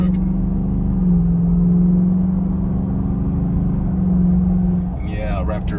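A 2021 Roush F-150 pickup truck engine gives a deep, steady roar as it accelerates, rising and holding, loud and close, with a brief voice near the end.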